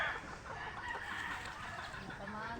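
A chicken on a farm clucking faintly against rough background noise, a few soft calls at a distance across a short stretch.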